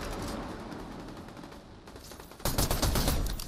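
Automatic gunfire in the Fortnite video game, a dense continuous rattle of rapid shots, loud and close, swelling sharply louder for the final second.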